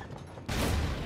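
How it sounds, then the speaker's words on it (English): A cannon carried as a ranged weapon fires in Elden Ring: a sudden loud blast cuts in midway and a dense, rumbling roar sustains to the end, with no talk. "I can carry around a godforsaken cannon now"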